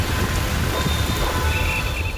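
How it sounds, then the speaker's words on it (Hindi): Heavy rain falls steadily in Jaipur, a dense continuous hiss and patter that stays loud and unbroken throughout, with no voices. "जयपुर में मंगलवार को पूरे दिन बारिश हुई"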